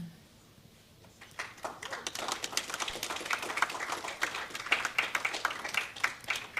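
A modest audience at a conference talk breaks into applause, starting quiet and building into a steady patter of many hands clapping, fairly soft and somewhat distant.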